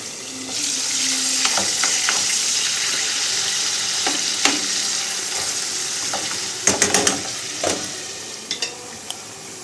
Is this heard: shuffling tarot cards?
no